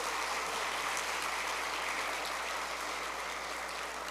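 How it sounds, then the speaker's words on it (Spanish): An audience applauds guests from Veraguas province at a civil procedure training session, a dense continuous wash of clapping heard at a moderate distance and slightly faint throughout. "Un aplauso para los compañeros."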